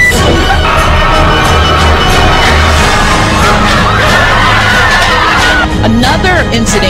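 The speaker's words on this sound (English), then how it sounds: "The mad dash into a Walmart store knocked shoppers to the ground near Grand Rapids, Michigan." Shoppers in a crowd surge into a Walmart store near Grand Rapids, Michigan, a loud, chaotic roar of shouting and screaming voices with clattering and crashing throughout, dense and close the whole time.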